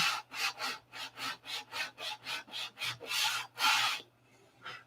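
Sandpaper rubs back and forth over wood in about a dozen even, rhythmic strokes, close and fairly quiet, with two longer passes near the end before stopping.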